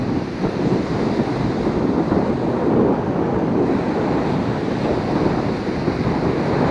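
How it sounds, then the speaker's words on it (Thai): Sea waves wash onto the sandy beach at Sai Buri in Pattani, Thailand, as a continuous broad surf rush mixed with wind buffeting on the microphone, with no voices. "นี่คือชายทะเลอำเภอสายบุรีครับ"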